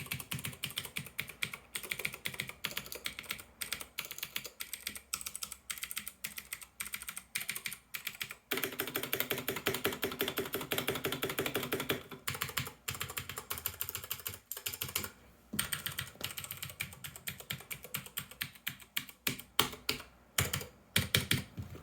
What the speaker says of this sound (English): it's a loud switch for those of you who aren't used to blue switches